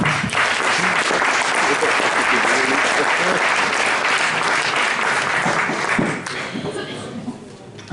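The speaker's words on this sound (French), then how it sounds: "Vous pouvez l'applaudir." A crowd at a political campaign rally applauds steadily for about six seconds, dense clapping with some voices mixed in, then it thins out and fades.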